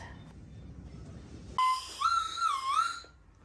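A whistle pop candy whistle is blown once in a rising, warbling tone lasting over a second, loud and close against a quiet room background, with no talking.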